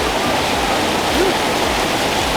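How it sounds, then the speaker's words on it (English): Rain falling onto a street in Athens, a dense, steady wash of hiss that stays even and unbroken throughout, no voices. "You haven't noticed it started raining."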